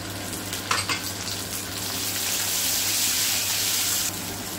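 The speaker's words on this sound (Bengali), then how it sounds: "এখানে আমার টমেটো, কাঁচা লঙ্কা, পেঁয়াজ সব সুন্দর করে ভাজা হয়ে গেছে" Tomato, green chilli and onion fry in a pan with a steady broadband sizzle that swells in the middle and drops near the end, with a brief clatter of stirring early on.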